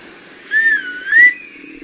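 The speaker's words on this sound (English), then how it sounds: "She gave a low whistle" A single low whistle, slowly rising and falling in pitch, sounds close and clear over faint background hiss and then trails off.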